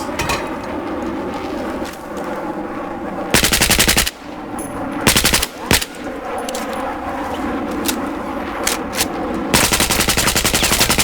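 Rapid automatic gunfire rattles in several loud bursts in a video game, alternating with quieter stretches of ambient battlefield noise.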